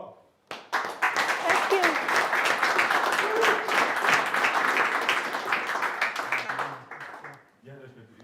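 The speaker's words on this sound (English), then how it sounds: "So big applause to Punima for the talk" An audience at a GraphQL Zurich meetup applauds after a talk, breaking into loud, dense clapping that holds for several seconds and then fades. A short spoken thanks comes at the start and a voice at the end.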